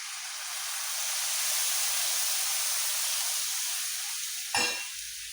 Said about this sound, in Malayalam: തിളപ്പിച്ച വെള്ളമാണ് ഞാൻ ഇതിനകത്തോട്ട് ഒഴിച്ചു കൊടുക്കുന്നത്.